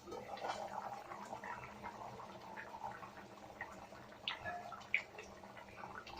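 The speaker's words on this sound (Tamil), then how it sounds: "பாத்தீங்கன்னா நல்லா மீன் நல்லா கொதிச்சுக்கிட்டு இருக்கு." Chettinad cumin fish curry boiling in a pot, a soft steady bubbling with occasional small pops and drips, faint and close.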